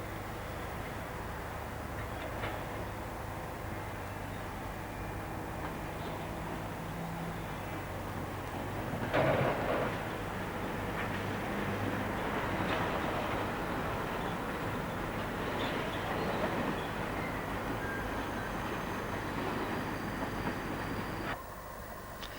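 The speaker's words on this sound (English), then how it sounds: "Celebrity RFD liveried 47306, the Sapper, since withdrawn, is seen unusually working the Stratford to Wembley Enterprise service" Class 47 diesel locomotive 47306 in RFD livery hauling the Stratford to Wembley Enterprise freight on the North London line, a steady rumbling engine drone with rail noise that swells midway and holds loud before cutting off near the end.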